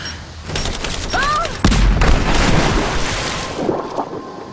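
Grenade blast and bursts of gunfire in Rise of the Tomb Raider: Blood Ties, a loud deep boom partway through amid rattling shots, with rumbling debris and a short voice cry trailing after.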